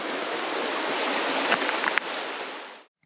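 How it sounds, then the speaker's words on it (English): A steady, dense roar of heavy rain pouring down, broadband and continuous, with a few brief knocks near the end before it cuts off. "now, as you can see, it's started to pour with rain again"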